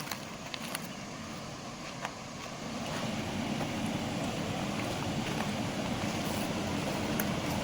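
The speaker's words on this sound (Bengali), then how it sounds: "তার মধ্যে দিয়ে জল বয়ে চলেছে" Water of the Shilabati River flows at Kadam Deoli Dam in a steady broadband rush that grows fuller after a few seconds, mixed with wind buffeting the microphone outdoors.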